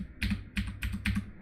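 A password goes in on a computer keyboard, about four quick clustered bursts of key clicks, fairly soft and close, with no talking.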